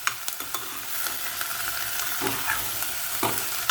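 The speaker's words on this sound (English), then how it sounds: "fried the onions and potato" Steady sizzling of onions and potatoes frying in a pan, with occasional scraping and stirring sounds over the constant crackle, close up.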